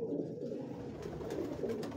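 Pure-breed pigeons with blue feet coo in a low, steady murmur, several birds overlapping close by with no voices over them.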